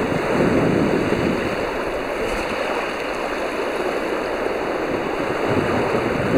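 Waves wash continuously onto the lake shoreline at Old Woman Bay on Lake Superior, a broad, steady surf roar with rolling swells, mixed with some wind, and no voices.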